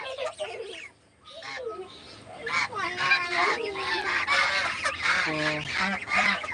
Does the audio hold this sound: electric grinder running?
no